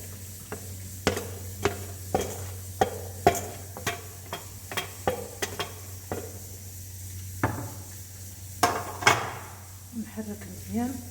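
A spoon stirs a chicken, olive and onion quiche filling in a pan, giving a steady run of close, sharp scraping clicks against the pan under a low hum, with a faint sizzle.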